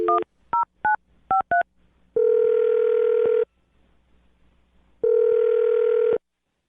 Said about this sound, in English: Let me dial her number.